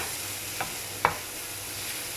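Buffalo chicken filling is stirred in a pan over a low flame, a soft background sizzle broken by two brief scrapes of the spoon, the second one sharper.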